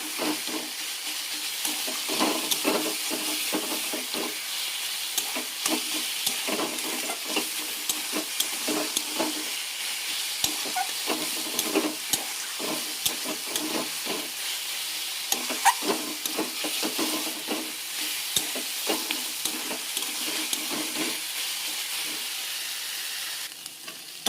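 Chickpea greens (saag) frying in a pan, with a steady, close sizzle and hiss running throughout and frequent scraping clicks from stirring, and no talk.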